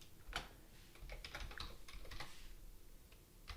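A command is typed on a computer keyboard as a quick, irregular patter of soft key clicks. The typing is close, quiet and fairly steady, with no voices.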